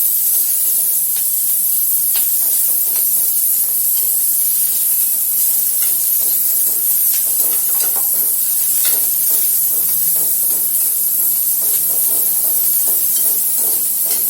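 Onion and slit green chillies sautéing in a pan for a Tamil brinjal gotsu, a steady close hiss and sizzle with occasional stirring scrapes, no talk.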